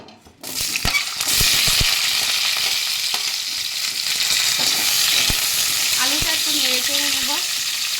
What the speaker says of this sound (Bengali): এবার আমি বাকি সবজিগুলো তেলের মধ্যে দিয়ে দিচ্ছি একে একে একটু ভালো একটুখানি সতে করে নেব